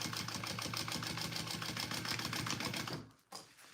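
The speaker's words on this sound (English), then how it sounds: "So I'm gonna do a second row of stitching" A sewing machine runs a second row of stitching on a Rick Rolltop Petite backpack, its needle hammering in a fast steady rhythm for about three seconds before stopping abruptly, followed by a brief soft clunk.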